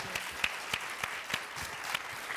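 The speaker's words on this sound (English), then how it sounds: "A round of applause." A quiet, sparse round of applause after a university lecture, individual claps standing out as thin, separate snaps from a small group, fairly faint and distant.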